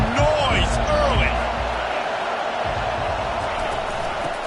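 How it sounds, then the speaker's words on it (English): A football stadium crowd roars and cheers in a steady wash of noise, with a commentator talking over it. "This crowd bringing the energy and noise early."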